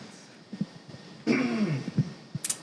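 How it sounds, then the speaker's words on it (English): A man clears his throat once with a short, rasping rumble, close and fairly quiet, framed by a few soft breaths and small mouth noises. "I had to clear my throat"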